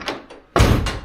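A BMW 2002 car door swings shut against its striker with one solid, close thud, after a quieter moment of faint handling noise.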